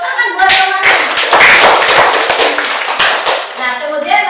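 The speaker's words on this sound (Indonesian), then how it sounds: "Iya, tepuk tangan buat temannya." Students in a classroom clapping for a classmate, loud close handclaps in a quick burst that thins out, with voices talking over the start and end.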